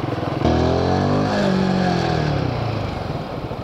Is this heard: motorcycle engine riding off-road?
yes